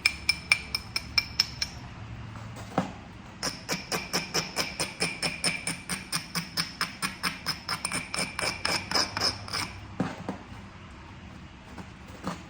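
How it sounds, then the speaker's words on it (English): Tallahatta quartzite edge being abraded during flintknapping, long runs of sharp, evenly spaced stone-on-stone scrapes and clicks, close and steady, with short pauses between runs. "Fair bit of abrading"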